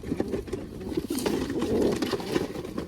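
Domestic pigeons gathered at a water spot in Gujarat coo in a continuous low burble over a noisy outdoor background, close by and moderately loud.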